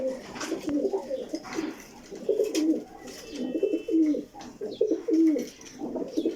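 Pure Sebe breed pigeons coo in a series of rolling, rhythmic phrases that repeat every second or so, with faint background rustle and no talk.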